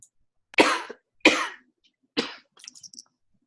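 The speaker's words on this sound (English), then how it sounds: "I've just muted you while you have a cough." Three distinct coughs from a woman, close and fairly loud, spaced about a second apart, followed by a few faint shuffling noises.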